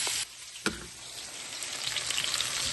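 Hamburger steak patties fry in a pan with a steady hiss of sizzling that builds into crackling spatters, preceded by a sharp knock.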